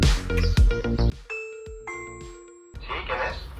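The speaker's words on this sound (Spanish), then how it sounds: "podremos contestar cuando llaman al timbre" An Aqara G4 smart video doorbell plays a clear two-tone ding-dong chime. It rings alone between stretches of speech before and after.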